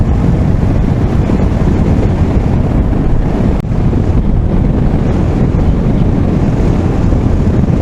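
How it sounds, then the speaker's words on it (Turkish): Strong wind buffets the microphone on a canyon road, a loud, continuous roaring rush that covers everything, with only a brief dip partway through. "Hem serin bak püfür püfür esiyor."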